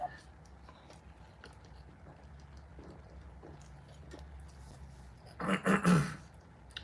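Near the end, a single close, raspy throat clearing after a stretch of quiet room noise and faint small clicks.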